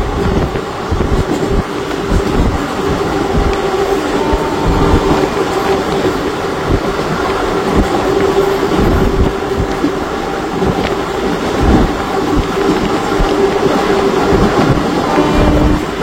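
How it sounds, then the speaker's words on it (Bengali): Maa Tara Express, a WAG 9HC-hauled train past Pandua running toward Bardhaman, heard from inside: a loud continuous rumble with rhythmic wheel clatter over rail joints throughout. "এখন আমরা কিন্তু ট্রেন যাচ্ছে বর্ধমানের দিকে"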